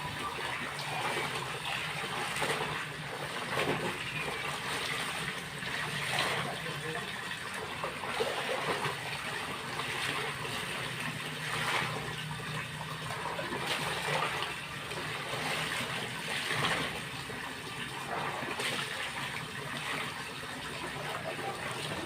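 Clothes are rinsed one by one by hand in a basin of water during household chores. A continuous sloshing, splashing wash of water rises and falls at moderate volume, close by.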